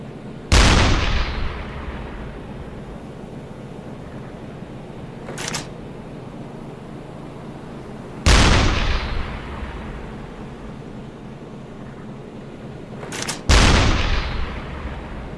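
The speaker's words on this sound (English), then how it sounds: "More rounds incoming." Incoming artillery rounds in a World War II U-boat convoy-raiding game, three sharp loud blasts spaced several seconds apart, each decaying into a rumbling tail, with fainter distant shots between.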